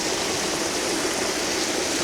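Water from a stream near a waterfall rushes in a steady, full broadband roar, close and constant with no voices over it.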